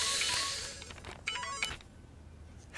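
A mobile phone rings for an incoming call, with a bright electronic ringtone that chirps in short repeated bursts and fades toward the end.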